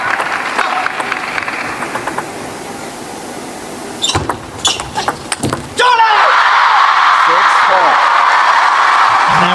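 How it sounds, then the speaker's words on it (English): A crowd at a table tennis match in Doha erupts into loud roaring cheers after a few sharp ball strikes, with a commentator's voice heard over the noise. "roars of joy from the crowd"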